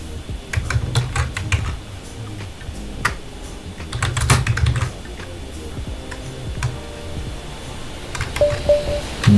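Typing on a computer keyboard, bursts of quick clicky keystrokes close by with short pauses between runs, mostly alone with a faint hum behind.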